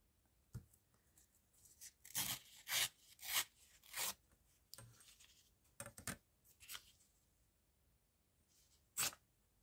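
Painted book pages are torn by hand into labels, heard as separate close, crisp ripping bursts with short quiet pauses between them and no talking.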